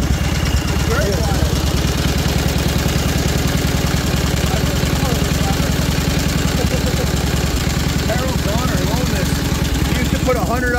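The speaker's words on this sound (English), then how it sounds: "I can't believe how quiet the engine is, even though it's got these external valves here." A 1928 Harley-Davidson JD motorcycle with external valves runs steadily in a low, even, fairly quiet chug throughout, while someone talks over it.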